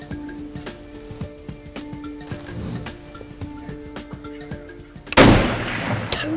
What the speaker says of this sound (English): Let me shoot him.